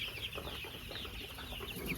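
A flock of Sonali breed chickens clucks softly and continuously in a poultry shed, faint and fairly distant, with scattered overlapping calls and no voices.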